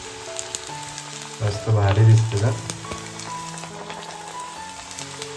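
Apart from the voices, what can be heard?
vada frying in hot oil in a kadai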